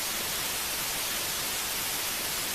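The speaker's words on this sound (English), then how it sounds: "So that's some real like Ruby generated noise we got there." Random noise generated by Ruby code plays as a steady, loud hiss of broadband static, even and unchanging throughout with no pauses or other sounds.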